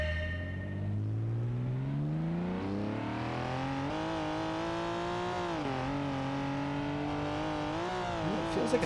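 A 90's Porsche 911 Turbo S driven in BeamNG, its engine revving up through the gears and holding a loud, steady drone with brief dips between shifts, close and continuous.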